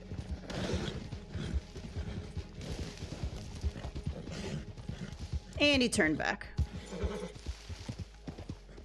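An Arabian horse in the video game Red Dead Online trots with steady, rhythmic hoofbeats. It whinnies partway through, while someone talks over the sound.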